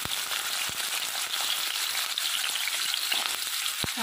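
Carrot frying in white oil in a wok, a loud, steady, close crackling sizzle with a few sharp ticks and pops throughout.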